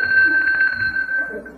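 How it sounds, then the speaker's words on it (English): A small hand bell rings with a single sustained metallic tone that hangs steadily and fades slowly, close and clear in a quiet room. "Now, if you want anything, just ring Aunt Miriam's bell."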